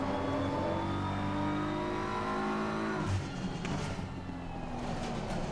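Race car engine in the Assetto Corsa driving game, a loud steady high-pitched drone that shifts and dips near the three-second mark, then carries on with brief tire squeal bursts.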